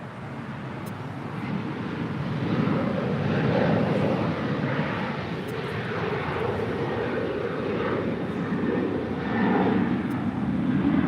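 A Delta Airlines airliner passes near LAX, its jet engines a steady, broad roar that swells and eases slightly without stopping.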